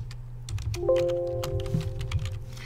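Keystrokes on a computer keyboard while entering a word in PowerPoint, a quick run of light clicks over steady low hum and a few soft tones.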